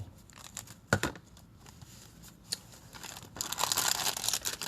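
Close cutting and crinkling of craft material for a pocket card, with a few sharp snips and rustles and louder crinkling toward the end, with no talking.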